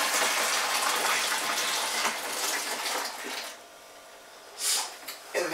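Hot and cold tap water runs into a homebrew fermenter for a Coopers Australian Stout, a gushing, splashing flow that fades midway, then a short burst of water returns near the end.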